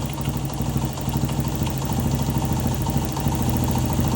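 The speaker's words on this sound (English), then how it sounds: "The rule of thumb with these is to just kind of play with it until you hear the idle come up." A 1975 Honda XL125 motorcycle engine idles steadily up close, a continuous low putter with a faint mechanical rattle that holds an even rhythm throughout, with no talk over it.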